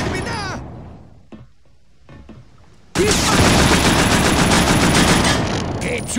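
Sustained automatic gunfire in Scarface: The World Is Yours on PS2, a dense, loud burst of rapid shots that kicks in halfway through after a quieter stretch of scattered sounds and shouted voices.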